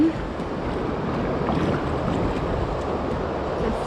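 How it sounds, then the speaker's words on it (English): Steady wind rushing and buffeting continuously, mixed with water noise from the French Broad River near Hot Springs, North Carolina, loud and close throughout without any talking. "I hear the wind."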